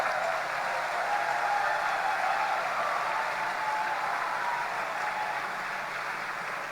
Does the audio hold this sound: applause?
yes